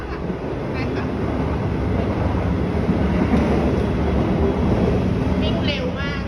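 Steady interior rumble of the Haruka express train speeding from Kansai Airport toward Kyoto on a rainy day, a continuous close roar of wheels and cabin noise with no break.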